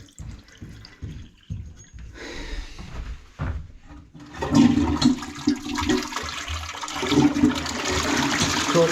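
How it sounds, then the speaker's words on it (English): Water gushes and gurgles out of open taps into a pedestal basin and drains away, a loud rushing flow that swells after several quiet knocks and clunks of handling at the start. "Let's get these taps open so everything's draining."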